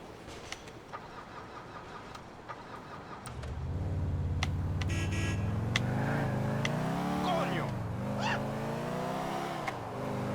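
A car engine in GTA IV starts up partway through and revs, its pitch rising and dipping close by. Softer game noise and clicks come before it.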